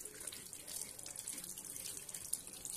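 A tap runs steadily into a sink while a PVC ID card is rubbed under the stream, giving a continuous close hiss of splashing water with no talking.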